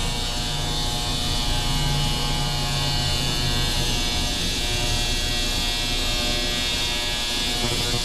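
Ultrasonic cleaner running with generator carburetor parts inside, a steady electric buzz and hum holding evenly without pause, fairly close and alone with no talking.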